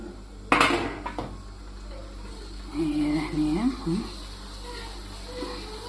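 Clatter of an oiled metal baking tray being handled: a sharp bright clang near the start, then a few lighter knocks, with someone talking through the middle of the clip.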